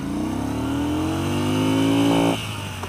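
A 2016 Yamaha Star Bolt motorcycle pulls hard through first gear at wide open throttle, its engine note climbing steadily and loudly for over two seconds before the throttle is chopped at the cutoff.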